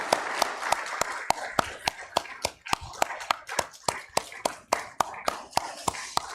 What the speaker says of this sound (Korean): 큰 박수로 우리 격려합시다.